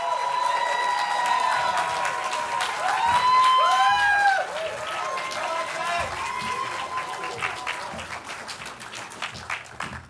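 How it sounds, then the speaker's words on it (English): Audience applause with cheering and whistles fills the room at an indie film awards ceremony as the winners are announced. The clapping is dense and steady, swelling loudest in the middle before easing slightly toward the end. "Let's give them one more round of applause."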